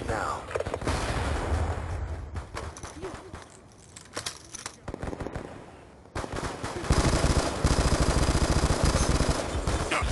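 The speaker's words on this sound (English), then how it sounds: "I wasn't even sure where I was being shot from" Rapid automatic gunfire in Call of Duty: Black Ops 2 team deathmatch on the Raid map, dense bursts hammering on and off then swelling louder and continuous near the end, with players talking over it.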